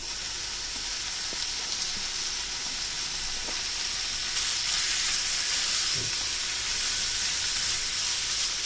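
Small chicken pieces sizzle and fry in sautéed masala in a pan, a steady close hiss with occasional stirring clinks, no voices.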